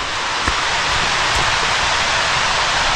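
Water overflowing Derwent Dam in the Peak District after heavy rain, a loud continuous roar of cascading water, dense and unbroken, with no voices.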